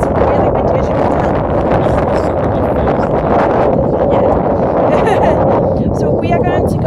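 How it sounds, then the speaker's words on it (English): Strong seaside wind buffets the microphone in a constant loud roar, gusting without pause, with faint voices briefly audible beneath it. "it's really windy, as you can tell"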